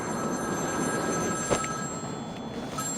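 A payphone rings in the Batman: Arkham City video game, a steady electronic ringing tone under a low background game ambience, with a brief knock partway through.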